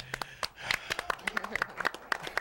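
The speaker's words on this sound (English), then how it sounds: "Don't clap for that." A late-night talk show studio audience claps steadily, a rapid patter of hands with voices and chatter mixed in underneath.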